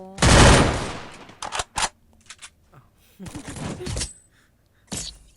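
Bursts of rapid automatic gunfire from the Free Fire video game, loud and close: one long volley, then short sharp bursts, with a brief voice in between and a final burst.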